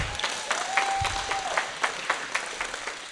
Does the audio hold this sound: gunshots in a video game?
no